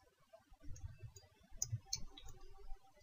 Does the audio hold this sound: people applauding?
no